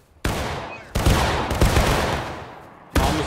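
Loud bursts of gunfire in a video game, several sharp close shots and rapid volleys in quick succession, with no talk over them.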